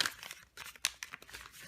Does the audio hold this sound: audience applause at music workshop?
no